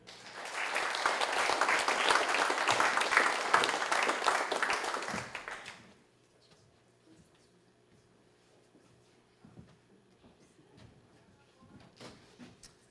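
An audience at an evening awards ceremony for firefighters gives a lieutenant a loud, dense round of applause for about six seconds, then it stops and faint room noise and quiet speech follow.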